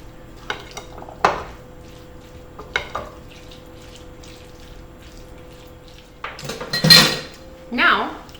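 Ricotta, a whole egg and Parmesan being mixed in a dish, with scattered utensil clinks and scrapes against the bowl, a few louder knocks and a brief clatter near the end, no one speaking.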